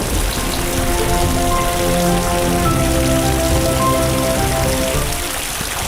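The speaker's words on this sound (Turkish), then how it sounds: "Yağmur başlıyor." Steady rain in a children's cartoon patters on a surface, a dense continuous hiss of drops that stays even throughout, with no voices.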